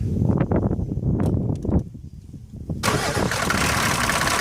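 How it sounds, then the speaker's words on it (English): A Mercedes-Benz W124 300D diesel engine cranks with uneven chugging bursts, pauses, then catches and settles into a loud, steady running roar nearby. "Magali, start the engine, please."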